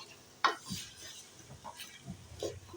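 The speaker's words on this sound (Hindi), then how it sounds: "ये अदरक लहसुन के साथ और ये कुकिंग ऑयल में आपने भून लेना है" Mutton for nihari is sautéed in cooking oil with ginger and garlic, with a faint background sizzle under clattering spoon strikes and scraping stirs against the pot.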